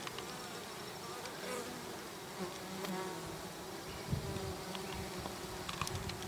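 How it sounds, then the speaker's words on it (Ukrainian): Honeybees flying back from the forest to their hive rows buzz steadily all around, a soft continuous hum with individual bees passing close now and then. "бджола із лісу тікає до вуликів"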